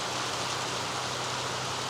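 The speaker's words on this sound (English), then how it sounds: "I'm actually glad it's raining" Heavy monsoon rain at the start of the season, a dense, steady hiss of downpour that stays even and continuous throughout, with no voices or other sounds breaking through.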